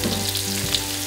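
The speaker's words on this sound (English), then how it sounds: "Now let's take our onion. Throw our onion right in." Onion hits hot oil with a steady, close sizzle that stays loud and even through the whole brief moment, joined by a low hum.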